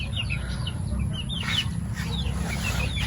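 Chicks in a cage at a heritage chicken farm peep in quick high chirps over a steady low background hum, some near and some farther off, with no talking.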